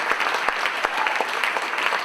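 Audience applause at a live Pan African community talk, dense continuous clapping with distinct individual claps popping out close by, steady and fairly loud throughout.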